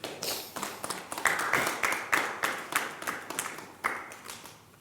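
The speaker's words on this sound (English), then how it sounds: "I don't know why you're clapping." A few people clapping, with sharp separate claps landing in an uneven, loose rhythm across several seconds at moderate volume.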